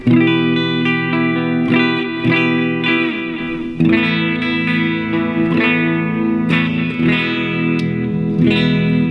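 Electric guitar clean tone through a Positive Grid Spark Mini amp, strummed chords and picked notes ringing loud and sustained with a steady rhythm and light effects shimmer, no talking.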